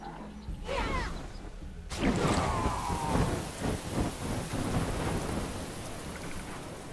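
Rolling thunder and steady rain from a thunderstorm in the strategy game Endless Legend, with a loud crack of thunder about two seconds in followed by a sustained downpour that fills the background.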